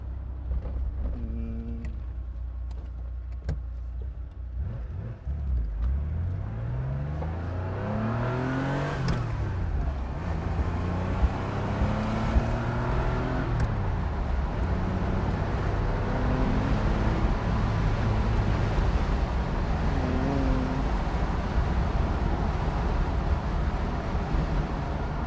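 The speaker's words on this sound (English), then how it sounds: "I'm gonna let you feel how this car goes" A 1980 Porsche 911 SC revving and accelerating through several gear changes, engine pitch repeatedly rising then dropping, loud and close from inside the car with steady road rumble, no talk.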